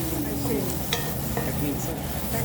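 Turmeric powder sautés in a hot pan for a homemade chicken curry, giving a steady, soft sizzle with stirring scrapes, close and continuous.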